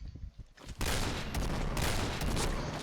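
Gunfire in the shooting game Point Blank: a few separate shots, then a loud, dense burst of rapid fire that runs without a break, up close, with no clear speech.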